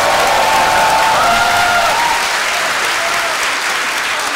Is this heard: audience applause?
yes